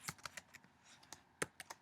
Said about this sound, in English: Once again, typing incorrectly.